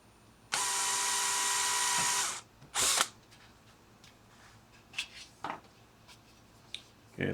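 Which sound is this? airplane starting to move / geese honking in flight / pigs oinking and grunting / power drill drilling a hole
power drill drilling a hole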